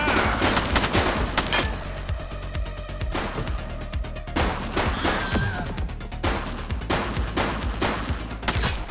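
Dense gunfire from The Precinct video game, rapid loud shots cracking one after another almost without pause over a continuous background din.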